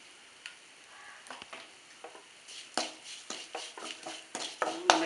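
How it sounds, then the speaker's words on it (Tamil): Boiled potatoes, seasoned with garam masala for a potato roast, sizzle faintly in a pan while a spoon scrapes and stirs them in irregular, increasingly frequent strokes. "நம்ம வேக வச்சிருக்க இந்த உருளைக்கிழங்க எல்லாம் போடணும். எடுத்து போட்டு அப்படியே மெதுவாக கிளறி விடணும்."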